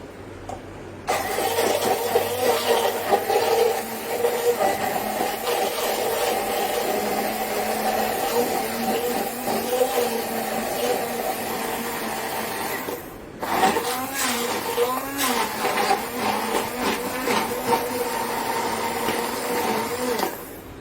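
A motorized blender whirs loudly and steadily grinding chutney, stops briefly partway through, then starts again and keeps grinding, with no talking.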